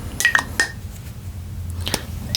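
The snap-on cap of a perfume bottle clicks in a few sharp, close plastic snaps and taps, brief and crisp against a quiet room hum.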